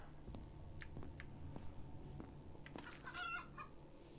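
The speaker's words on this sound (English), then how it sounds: "That sounds like more of a chicken than a rooster." Chicken clucking in the horror video game Paragnosia, a series of short clucks and squawks scattered across a few seconds over a low background hum, with a brighter burst of calls near the end.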